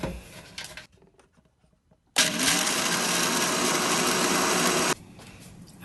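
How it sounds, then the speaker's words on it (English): A blender crushing peppermint candy canes inside an RV kitchen starts abruptly after a quiet moment, roaring loud and steady for about three seconds with a gritty grinding texture, then cuts off sharply. "So once you get all of your candy canes unwrapped and in the blender, we are going to blend them up."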